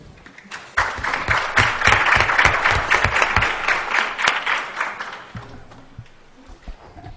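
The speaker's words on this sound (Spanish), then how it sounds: "Un aplauso para él" An audience at a talk on combining Western and traditional Amazonian knowledge in treatment gives a round of applause, clapping swelling quickly, holding for a few seconds, then thinning into scattered claps.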